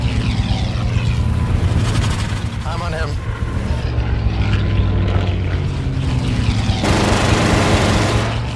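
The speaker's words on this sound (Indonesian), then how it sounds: "pertarungan udara yang cukup sengit antara tiga pesawat fighter Inggris berjenis Spitfires" Propeller engines of British Spitfire fighters roar in a film air battle, a loud continuous drone with shifting pitch as several planes pass, layered with other battle noise and some voices.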